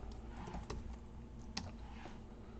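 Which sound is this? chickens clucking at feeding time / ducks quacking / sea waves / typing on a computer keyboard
typing on a computer keyboard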